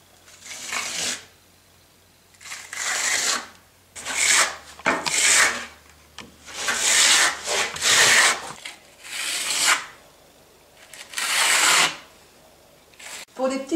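A plastering trowel held at a slight tilt is worked in short, rounded strokes over a decorative concrete surface. It makes repeated rhythmic rasping sweeps that come close and clear, each lasting about a second, with brief pauses between them.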